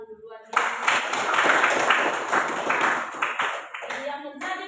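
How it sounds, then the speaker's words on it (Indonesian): Classroom applause from a group of students breaks out after a short spoken phrase, with dense, steady clapping for about four seconds before it thins out as voices return. "Oke, tepuk tangan dulu buat dia."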